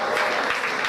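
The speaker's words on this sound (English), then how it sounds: "so that you can clap nicely." Dense, steady applause from an audience at a university scholarship programme, honouring a student receiving a full scholarship. Many hands clap close and loud without pause for the whole second.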